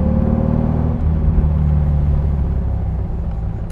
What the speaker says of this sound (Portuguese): Olha o motor boxer.